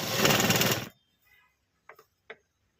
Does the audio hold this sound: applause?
no